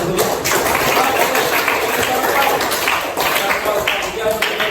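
Students clapping in a music class, a continuous, fairly loud wash of many hands with some voices mixed in throughout.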